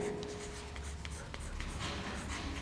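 Pen or pencil scratching out numbers on paper during a place-value maths lesson, close and soft with short strokes and taps and faint talk in the background.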